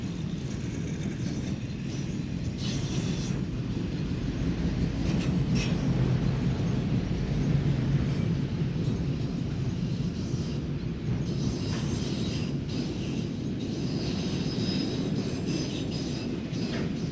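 A long New York Central successor auto train rolls past steadily, with a continuous rumble of wheels on rail, faint clicking joints and occasional high squeals, moderately distant and unbroken throughout.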